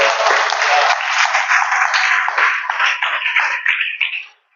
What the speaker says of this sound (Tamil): கைத்தட்டி ஆண்டவருக்கு ஒரு காணிக்கை செலுத்துவோம்.